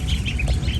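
Backyard poultry kept for eggs and meat, a duck quacking with short nasal calls over a noisy, close background, with chicken-like clucks mixed in.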